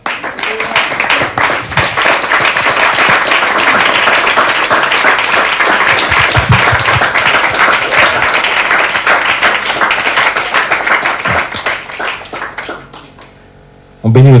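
Sustained, loud applause and clapping from a large audience at a French-language church youth day, filling nearly the whole stretch before fading out at the end.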